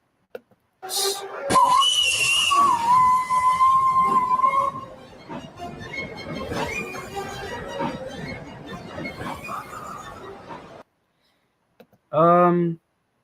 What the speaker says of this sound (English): this whistle getting replaced by like a chime whistle